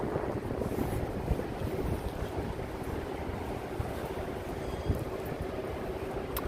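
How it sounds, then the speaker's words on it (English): Steady low wind rumble buffeting the microphone on a New York City street, continuous and fairly even throughout, with no voices. "even though it's kind of windy"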